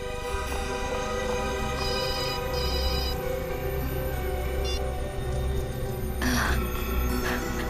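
A telephone rings in repeated electronic bursts over a busy, loud room-tone background, with a sudden brighter clatter near the end.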